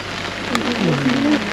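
Steady heavy rain pours in a dense wash of noise, with a low voice murmuring faintly underneath.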